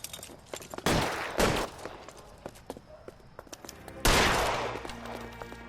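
Gunfire in the video game L.A. Noire: two loud close gunshots in quick succession, then a quieter stretch of light shuffling and footsteps, followed by another heavy shot that rings out and decays slowly.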